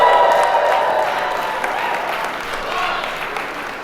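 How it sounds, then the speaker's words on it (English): Wedding guests clap and cheer loudly together, a dense burst of applause that gradually tapers off over a few seconds. "get those glasses raised, some hands clapping, some voices cheering for all of you lot."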